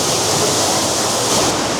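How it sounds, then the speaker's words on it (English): The last waterfall at Kanarra Falls thunders close by, a steady, loud rush of falling water and spray filling the scene with unbroken roar and no voices. "Here we are, and this is the last waterfall."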